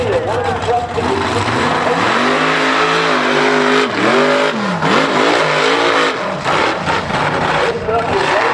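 A racing truck at a Redneck Yacht Club event in Southwest Florida revs its engine loudly and close, the pitch rising and dipping in repeated swoops over a steady rumble, with crowd noise behind.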